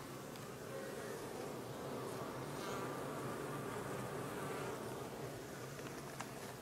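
Honeybees buzz at a beehive in a flowering orchard, a faint, steady swarm hum heard close up and continuing without pause.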